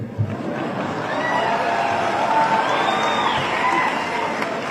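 Crowd at a Jammu University program claps and cheers during a speech, a steady wash of applause from a large hall, fairly even in loudness throughout.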